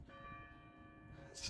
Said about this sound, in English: the bell sounds off kind of early.